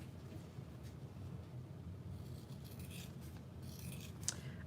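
Scissors cut through fabric for a bag pattern, with quiet rubbing and snipping at first and then a few sharper, crisper cuts later on, close by, with no voices.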